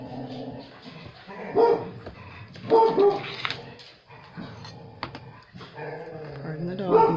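Dogs bark and yip in a few loud bursts with whimpering between them, close by indoors, and a person's voice is also present.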